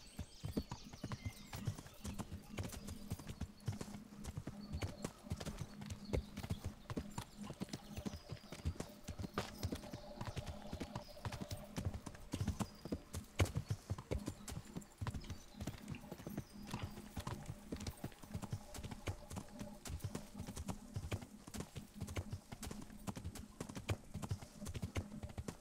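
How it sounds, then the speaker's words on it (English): Horse hooves clip-clop in a steady gait while riding in the video game Kingdom Come Deliverance, a continuous faint rhythm of hoofbeats that carries on for the whole stretch. "Dude, riding on a horse is so awesome."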